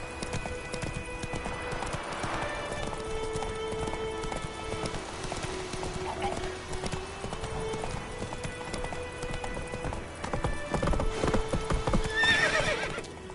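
Roach the horse clip-clopping in The Witcher 3, a steady run of hoofbeats under a continuous music and ambience bed, with a whinny near the end.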